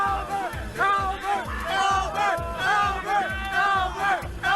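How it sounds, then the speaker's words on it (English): A crowd at a Super Smash Bros. Melee tournament erupts into a frenzy with continuous cheering and yelling at a steady, rhythmic swell, loud and sustained throughout. "The crowd erupts into a frenzy and swarms Albert"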